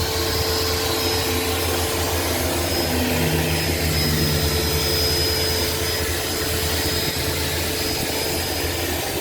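A loud, steady mechanical whine and hum of a table saw motor spinning at full speed nearby, continuous and unchanging.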